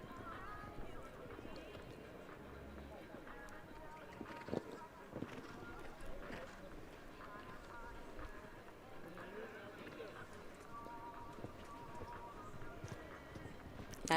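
Faint rhythmic hoofbeats of a horse cantering around a turn in an FEI show jumping world challenge final. Arena commentary talks over them throughout.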